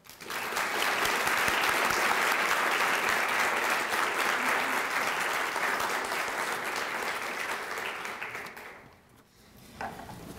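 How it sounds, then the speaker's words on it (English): Sustained applause from a sizable audience at a lecture, steady for several seconds before fading out into a quiet room. "join me in giving a round of applause"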